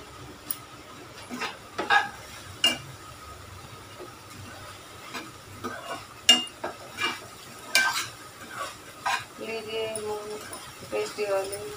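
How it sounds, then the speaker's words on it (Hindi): Sprouted moong dal cooks slowly in a pan on a gas stove, with a faint low sizzle under scattered spoon clinks and stirring scrapes, while someone talks intermittently. "गैस को कर दिया बिल्कुल सेम, धीरे धीरे पकाऊंगी इनको मैं"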